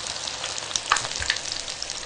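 Hot frying oil sizzling at around 180 degrees, a steady close crackling hiss with a few sharp pops, alone without voices.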